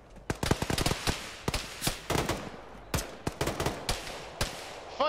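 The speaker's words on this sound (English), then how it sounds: "Sometimes it's fun to just shoot full auto." Full-auto rifle fire in the ArmA military video game, with dense bursts of sharp cracks in rapid clusters and brief pauses between them, close and punchy with no talking.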